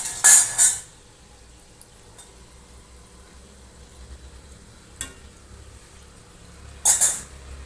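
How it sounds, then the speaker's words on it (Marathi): Medu vada deep-fry in oil over a low flame, a soft, steady sizzle close by, broken by two brief louder hissing spatters at the start and near the end. "हे बघा आपले मेदू वडे अशा रीतीने तळले जात आहेत"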